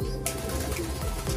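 Racing pigeon of Brusco bloodline crossed with Bickert coos softly at close range in a Marinduque loft, a low steady murmur with a brief burst of rustling or wing movement near the start.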